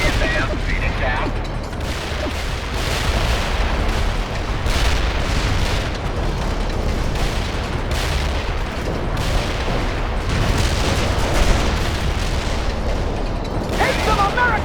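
Sustained heavy artillery barrage in the video game World in Conflict, a dense, loud rumble of overlapping blasts and booms rolling continuously with no break.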